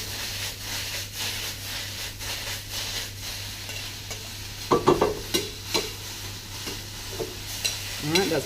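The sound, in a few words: spinach gently wilting and stirred in a pan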